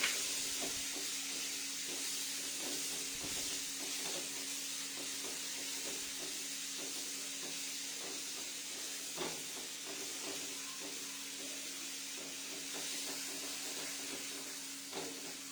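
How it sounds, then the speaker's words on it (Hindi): Onions sauté in a hot pan with a steady, soft hiss and sizzle, faint and continuous with occasional small crackles and stirring clicks. "अब हम इसमें अनियंस ऐड कर देंगे और इसको भी हल्का सा सॉटे करेंगे।"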